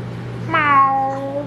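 A single meow-like call, rising then trailing off, made by a human voice imitating a cat over quiet background hum.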